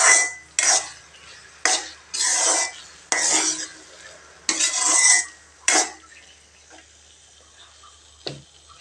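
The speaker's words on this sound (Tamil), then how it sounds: "இப்போ மறுபடியும் இந்த சர்க்கரையிலையும் நல்லா கிளறி விடலாங்க கொஞ்சம் நேரத்துக்கு." Pumpkin cooking down with sugar gets stirred in a pan: about seven bursts of scraping spoon-on-metal strokes, close and loud, then quieter with one last scrape near the end, no talk.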